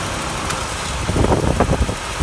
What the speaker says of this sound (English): Yeah, there's the old reliable 3300, a pretty good engine.